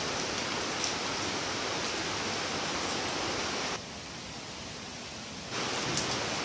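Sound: wind blowing through trees before rain

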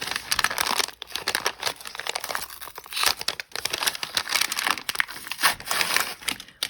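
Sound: opening a plastic package

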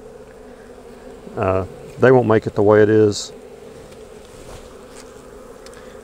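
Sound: honey bees buzzing at a weak beehive

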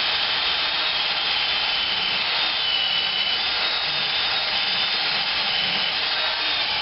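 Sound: drill cutting out brake pieces

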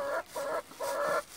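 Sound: chicken clucking

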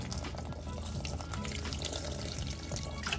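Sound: coconut water being poured

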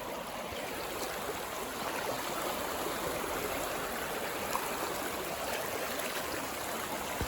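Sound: people wading through a stream

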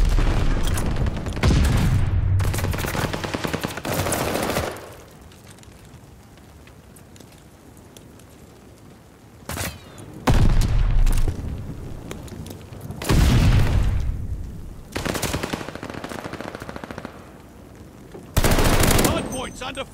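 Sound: gunfire in a video game

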